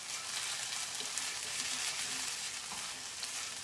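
Vegan scrambled egg browns in a frying pan, giving a steady, faint, close sizzle with soft crackles throughout and no voices.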